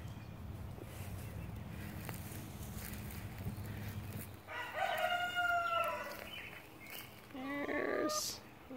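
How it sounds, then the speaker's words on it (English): A rooster crows a couple of times at a moderate distance in a spring vegetable garden, rising harmonic calls after a stretch of low rumbling background noise. "You can hear the chickens here."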